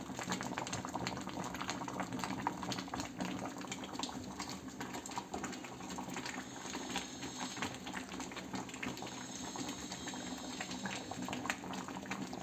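Mutton sambar curry simmering in a pot, giving a steady dense bubbling and sizzling hiss that stays close and even throughout, with no voices.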